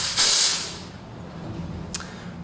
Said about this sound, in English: I might as well clean my steam arm